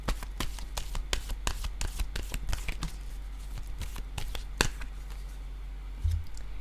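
Tarot cards being drawn and handled: a quick series of close crisp snaps, flicks and shuffling clicks, fairly loud and without speech.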